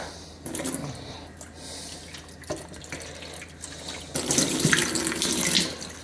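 Running tap water rinses a part from a Melitta Latticia OT 600 series coffee machine at a sink, a steady close splashing stream that grows louder and brighter toward the end.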